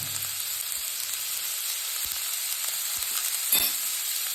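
Chopped onions frying in a pan for soya cutlets, a soft steady sizzle with a few faint stirring knocks, quiet and close with no talking.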